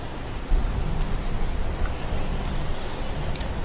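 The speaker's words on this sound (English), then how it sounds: "It's pouring rain." Pouring rain in the video game Heavy Rain, a dense, steady wash of noise with a low rumble underneath, constant and fairly loud with no voices.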